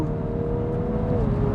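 Dual-clutch car accelerating, its engine and exhaust giving a steady, rising drone heard close and continuous with no break.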